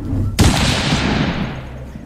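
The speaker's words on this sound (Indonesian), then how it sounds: "Suara tembakan barusan menyadarkan Ekel dari lamunannya." A loud, close gunshot blast strikes sharply and then decays into a long rumbling echo within a narrated story about shooting a T-Rex.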